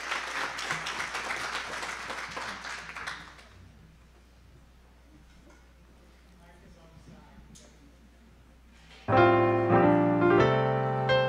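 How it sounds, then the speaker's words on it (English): An audience at a Martin Luther King Jr. birthday breakfast tribute at Coppin State University claps in a short burst that fades within a few seconds, followed by quiet and then loud music. "Can we have a round of applause for our own Mr."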